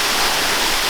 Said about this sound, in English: Welcome to Catandayagan Waterfall.